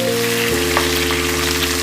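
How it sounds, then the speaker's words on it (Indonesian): Garlic, shallots and cut red chili fry in hot oil with a steady, dense sizzle that stays loud and even throughout, with a faint low hum beneath and no talking. "Selanjutnya saya masukkan cabai merah yang sudah saya potong-potong tadi."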